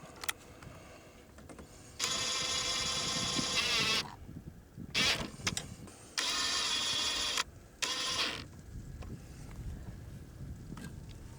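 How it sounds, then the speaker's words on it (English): Four machine screws being tightened on an anemometer mount during device assembly, heard as several loud whirring bursts of a few seconds each, separated by quieter handling noise. "We'll then tighten the 4 machine screws."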